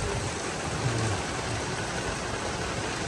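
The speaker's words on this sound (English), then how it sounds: "We are in monsoon territory here." Heavy monsoon-style rain pours down on Hackler Golf Course in Myrtle Beach, a steady, dense hiss that holds at the same level throughout with no voices.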